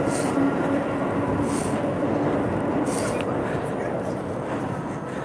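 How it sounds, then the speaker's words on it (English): A subway train pulls into Forest Hills station, its steady rumble and rail noise filling the platform, with a voice talking over the constant roar. "And I think this is my train."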